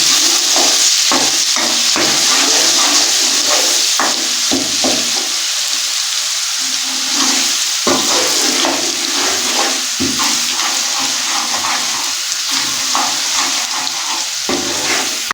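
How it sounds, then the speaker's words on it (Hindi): Ginger garlic paste fries in ghee in a kadai, giving a constant loud sizzle broken by repeated scraping stirs of a spoon against the pan; no one speaks. "सबसे पहले हमने अदरक और लहसुन का पेस्ट डालना है"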